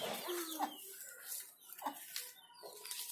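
A hen clucks in short, repeated bursts close by while chicks are nearby, a few distinct calls spread over about three seconds against a busy outdoor background.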